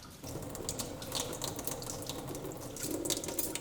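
A kitchen tap runs steadily, a soft continuous splash of water at moderate distance with faint clinks, no speech.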